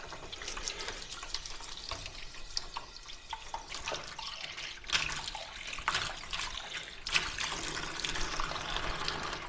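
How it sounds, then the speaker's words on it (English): A paintbrush rinsed under a running tap, giving a continuous broad splashing rush of water with small irregular spatters and drips, steady and close throughout. "So I'm going to go over here and just rinse this brush off camera."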